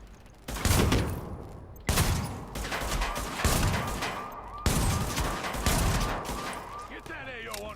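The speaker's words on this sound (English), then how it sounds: "Heavy fire!" Heavy gunfire from the video game Tom Clancy's The Division, a dense, loud sustained fusillade with sharp bursts restarting several times, a voice talking briefly over it.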